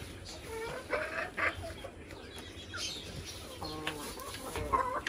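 Desi hill hens clucking in a poultry setting, several short, irregular calls rising over a soft background hiss, moderately near and fairly quiet.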